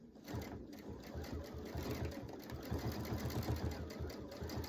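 A Radiance quilting sewing machine with a stitch regulator stitches in a rapid, even mechanical rhythm, close and fairly quiet, running continuously after a brief start.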